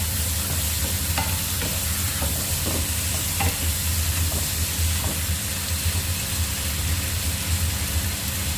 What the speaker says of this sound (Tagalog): So, ngayon naman guys ay isusunod natin itong tomatoes.